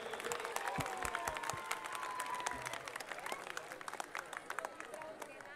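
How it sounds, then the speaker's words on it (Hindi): Parents and townspeople at a children's record-setting performance event in India give sustained loud clapping, with some crowd murmur and a voice talking over the applause throughout. "एक बार जोरदार तालियां इन बच्चों के लिए हो जाए"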